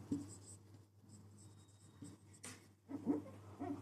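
A pen or chalk writes figures during an accounting lecture on partnership business, with short faint scratching strokes in small bursts over a low steady room hum.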